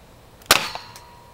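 A custom Nerf M16 toy blaster fires once, a sharp close pop with a short mechanical rattle after it, followed by a faint click.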